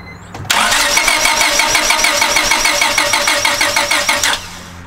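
A car engine briefly cranks with a rapid rhythmic whir, then catches and runs, holding a loud steady chugging idle for several seconds before dropping off, close to the microphone.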